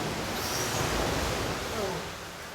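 Sea waves washing below a tunnel in Funchal, Madeira, a loud continuous broadband roar of surf close by that eases slightly toward the end, with faint talk mixed in.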